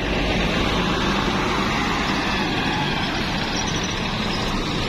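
A nonstop intercity bus pulls out of a busy terminal at night, bound for Medan: a heavy, steady diesel rumble that stays loud and close throughout.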